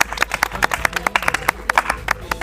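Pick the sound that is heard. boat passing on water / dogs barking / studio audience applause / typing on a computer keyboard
studio audience applause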